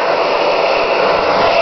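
A blow dryer runs on ferrets, a steady loud whooshing hum of fan and air held unchanged and close throughout.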